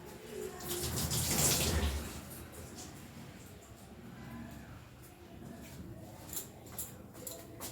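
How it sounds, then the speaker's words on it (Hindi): Hands are washed under a running kitchen tap, a brief loud rush of water that drops to a softer splashing trickle. "हाथ धो के सुखा के"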